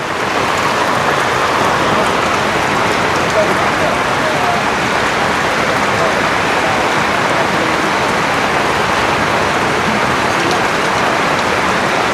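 Heavy rain falls without letup on a Thai village home damaged and left with exposed electrical wiring, producing a thick, constant roar of water that never breaks.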